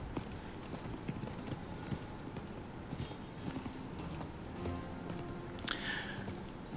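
Steady clip-clop of horse hooves at a walking pace in the video game Diablo IV, close and continuous, with a faint background hum and occasional small clicks.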